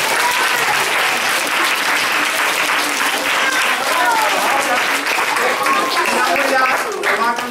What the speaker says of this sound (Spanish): les tenemos que dar un aplauso muy fuerte